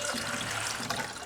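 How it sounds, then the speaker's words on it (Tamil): Water from soaked potatoes pours out steadily as it drains away, a close, continuous splashing rush with no voices. "இப்போ இதை வந்து நம்ம வந்து தண்ணி ஃபுல்லாக ட்ரெயின் பண்ணிக்கலாம்"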